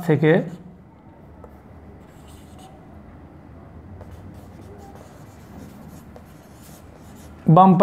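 Chalk or marker scratching numbers onto a classroom board, a steady faint rubbing texture running throughout, with a voice speaking briefly at the start and again at the end.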